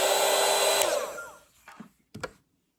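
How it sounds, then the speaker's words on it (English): A hair dryer used to dry watercolour paint blows loudly and close, then winds down and switches off, followed by a few knocks as it is set down. "I also have right here my dryer."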